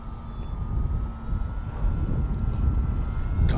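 An E-Flite Timber X RC airplane flies overhead with a steady, droning engine note under rumbling wind noise. The sound is close and fairly loud, and no one talks.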